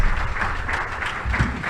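Audience applause at a Harlem Week community event on climate and environmental justice, a short steady burst of clapping from a room full of people, fairly loud and continuous.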